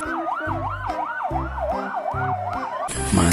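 A toy fire truck's rapid wailing siren cycles up and down over a low repeating melody, close and electronic, then cuts to a harsh burst of noise.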